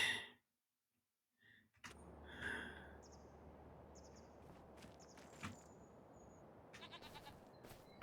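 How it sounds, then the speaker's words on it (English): A goat in the farming video game Farming Simulator 25 gives a short bleat after a brief silence, followed by soft footsteps and faint rustling ambience, quiet overall with a few sharper clicks near the end. "I heard a goat."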